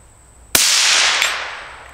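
A single loud, sharp rifle shot from a gun fitted with a night vision scope, cracking suddenly out of quiet and trailing off in a long, bright outdoor echo.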